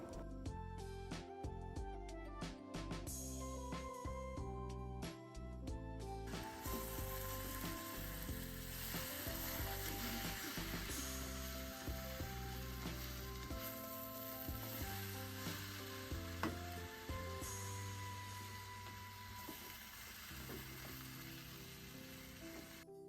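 Chicken kottu sizzles and fries in a pan with chicken curry while being stirred, loud continuous crackling broken by repeated rhythmic clanks of the utensil against the pan.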